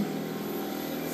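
A machine shakes hard on a vibration test rig at 2,400 RPM, with a heavy balance weight of about 200 pounds fitted. It makes a loud, steady, broadband roar with low rumble and no break.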